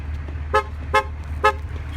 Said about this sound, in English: Do you want me to honk it?